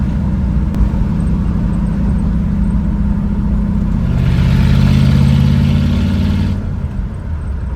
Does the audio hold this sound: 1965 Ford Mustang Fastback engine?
yes